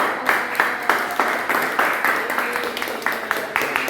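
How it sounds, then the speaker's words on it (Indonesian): Students in a classroom applaud a presenting group with a steady patter of many hands clapping at close range, with speech faintly mixed in. "silakan beri tepuk tangan untuk kelompok 1."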